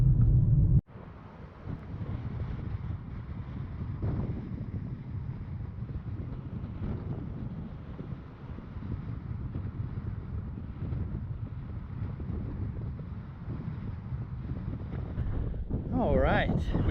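Chilly wind gusts across an exposed mesa top in Dinosaur National Monument, a steady rushing buffet against the microphone that runs throughout, with a person talking over it.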